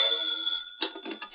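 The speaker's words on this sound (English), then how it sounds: "Before I even had time to think, the phone rang." A telephone bell rings once in a 1946 radio drama, a steady electric tone that cuts off, followed by a brief muffled clatter, close and clear with no talking.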